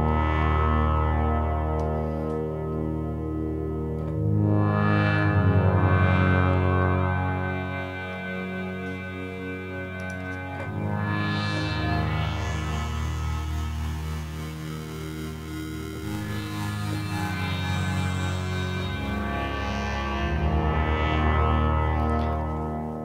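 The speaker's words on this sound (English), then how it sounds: "So you can get some really cool, massive pad sounds." Slowly evolving, massive synth pads from the KV331 Audio Synthmaster One software synthesizer, thick sustained chords swelling and fading in waves with shimmering modulated upper harmonics, played alone without talk.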